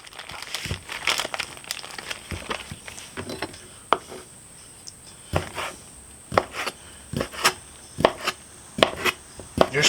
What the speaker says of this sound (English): Now we're going to go ahead and cut up our andouille.